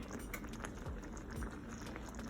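Chicken skin gravy bubbling and simmering in a pan, a steady dense crackle and pop close up, continuous and alone with no talk.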